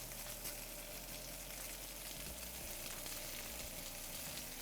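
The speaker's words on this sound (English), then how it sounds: "that's searing up really nice already" Chicken sears in a single pan for a roasted chicken dinner, giving an even, continuous crackling sizzle that stays steady and close throughout, with no talking.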